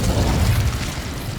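A fiery Incendio spell bursts with a deep rumbling whoosh in Hogwarts Legacy, a short loud blast that fades over about a second.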